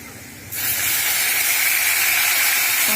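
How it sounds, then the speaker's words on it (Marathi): Cooked dal hits hot oil with reddish fried garlic in a pan, setting off a sudden loud, steady sizzling hiss that carries on without letup after a quiet start. "आपलं लसूण बघा कसा लालसर झालेला आहे त्यामध्ये आपण ही डाळ शिजलेली डाळ टाकून घेते"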